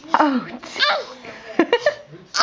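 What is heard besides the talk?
little girl sneezing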